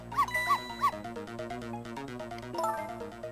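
Small dog barking in the Ghost Trick video game, three quick sharp yaps at the start and another near the end over a soft musical background.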